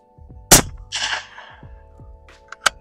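A 25 Creedmoor rifle firing a handload of 41.2 grains of N555 powder in large rifle primer brass gives one sharp, loud crack followed by a rumbling echo, then a fainter pop near the end.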